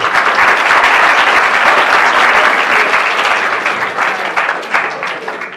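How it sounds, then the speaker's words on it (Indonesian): An audience bursts into sustained, dense applause at a lecture on a boys' campus, many hands clapping steadily and loudly before thinning slightly toward the end. "tepuk tangan dulu dong."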